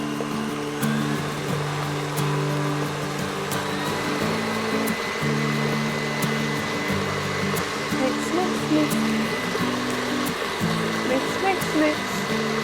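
An electric hand mixer runs steadily at a low, even speed as it beats apple pie ingredients, a constant whirring hum with slight shifts in pitch, close and continuous throughout.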